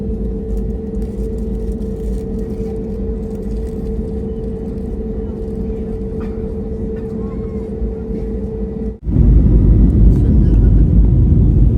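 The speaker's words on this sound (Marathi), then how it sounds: "चला प्लेन चालू झालं" Airplane engines start up on departure for a flight from Mexico to Texas: a steady cabin hum with voices runs until a sudden loud, broad engine roar takes over near the end.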